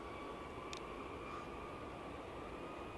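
A Ryanair airliner at Edinburgh airport, a broad steady engine roar heard from a distance, constant and unbroken throughout.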